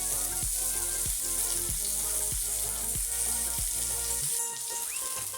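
Fish-oil fritters sizzle in hot oil as they fry to golden, a dense, steady crackle close by, with a few soft rhythmic knocks or scrapes from turning them. No talking is heard.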